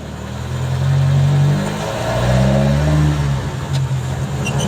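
A Harris-powered Mk2 Ford Escort engine growls loudly from inside the car as it accelerates on the road, rising and easing in two strong surges before settling into a steady drone.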